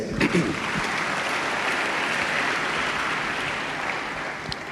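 A church congregation bursts into sustained applause, a broad steady wash of clapping that holds loud and even for several seconds, with a few louder claps near the start and no talk over it.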